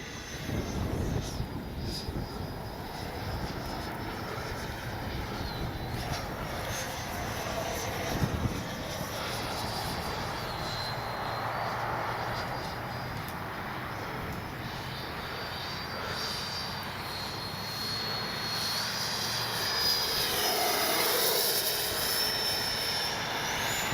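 FMS Avanti S 70mm RC jet in flight, a steady whooshing ducted-fan roar that swells and fades slightly as it passes, with a rising whine near the end and no gaps in the sound.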